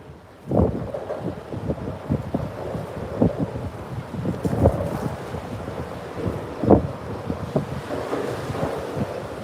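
Strong wind buffets a microphone on the Gulf of Mexico during Tropical Storm Bertha, a steady loud roar with gusty swells and surf-like rushing throughout.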